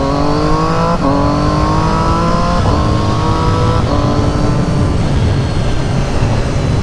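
A car accelerates hard with the pedal flat to the floor, its engine note climbing steeply through several quick gear changes, heard loud and close from a moving motorcycle over constant rushing wind.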